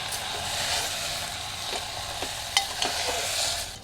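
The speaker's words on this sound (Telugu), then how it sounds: "మొత్తం కలపాలి ఒకసారి" A spoon stirs banana stem curry with turmeric, salt and jaggery in a pan, giving soft scraping and light sizzling over a low hiss, with a few sharper clinks near the end.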